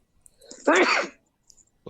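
One loud, close sneeze bursts out during a game session, preceded by a short breathy intake and followed by a brief voice.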